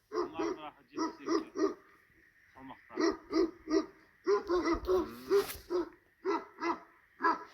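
A pair of hunting hounds bark repeatedly in short, close bursts, the barks bunched into quick rhythmic runs separated by brief pauses.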